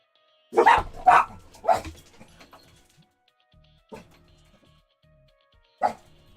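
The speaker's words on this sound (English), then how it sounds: "My dogs, they're barking. They're going crazy." Several dogs bark indoors, a quick burst of three or four loud barks followed by scattered single barks after short pauses, with quiet room tone between them.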